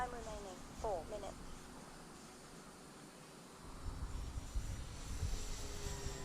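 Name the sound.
E-flite Timber Turbo RC model airplane flying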